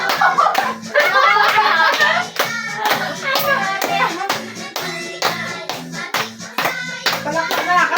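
A group claps hands at a year-end party birthday celebration: steady, loud rhythmic claps keep time along with singing voices, and the clapping continues throughout.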